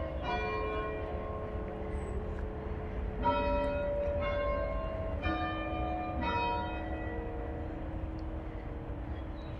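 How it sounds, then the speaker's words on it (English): Church bells ring from a church tower in Fulham, London, several strikes sounding at a steady pace over a low, constant rumble of distant aircraft and traffic. "Oh, you can hear the bells."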